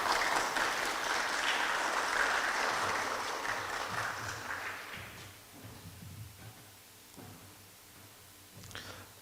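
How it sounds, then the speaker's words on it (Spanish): Audience applause at a legal conference on Peru's 1993 Constitution in Cusco, a broad hiss of clapping that holds steady for about four seconds, then fades out, leaving low murmurs and a few scattered sounds. "a quien recibimos con un voto de aplausos"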